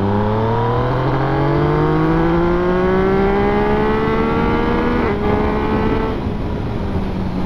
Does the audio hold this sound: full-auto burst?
no